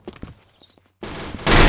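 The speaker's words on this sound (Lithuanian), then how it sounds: "O kurva, nuo tanko į mane šaudo" Heavy gunfire from a tank in the online shooter Combat Arms, with a few scattered shots early on and then a loud, dense burst of sustained firing that swells over the last part.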